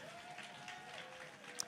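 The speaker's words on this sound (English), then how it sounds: "Clap it up for your neighbor next to you." A church congregation claps for their neighbours, a faint, soft patter of many hands heard from a distance, steady throughout with one sharper clap near the end.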